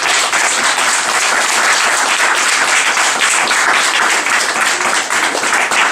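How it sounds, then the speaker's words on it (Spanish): A church congregation claps loudly and continuously at a celebratory service, a dense, even wash of applause filling the room from start to finish. "Denle un fuerte aplauso a nuestro Dios."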